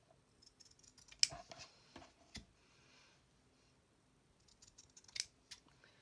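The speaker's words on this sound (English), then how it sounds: "And then I just cut these out." Scissors snip through paper pieces in a handful of sharp, close cuts, clustered early and again near the end, with quiet pauses between and no talking.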